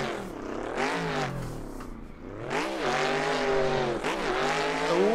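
Race car in Assetto Corsa on a banked track, engine roaring loud and close, pitch sweeping up and dropping sharply as it downshifts through gears, with brief tire squeal between revs.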